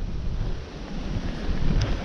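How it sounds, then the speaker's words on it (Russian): Strong wind buffets the microphone on a boat leaving Nikolaev by water, a continuous loud roaring rumble with gusty swells and no speech. "Ветер просто жестокий."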